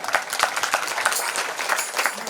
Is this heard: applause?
yes